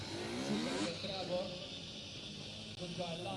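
An enduro motorcycle passes at the Romaniacs 2018 prologue, its engine rising and falling at moderate distance amid crowd murmur and outdoor background noise.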